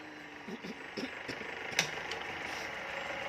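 A cylinder boring machine cuts a motorcycle cylinder sleeve with a steady, high-pitched machining whine, broken by a few knocks and one sharp metallic clink.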